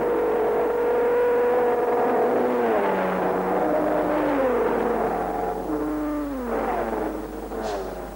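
A vintage Talbot sports racing car, number 7, at Le Mans in 1953 climbs the hill from the Dunlop Bridge. Its engine drones loud and close, with the pitch dropping and rising through gear changes before fading slightly.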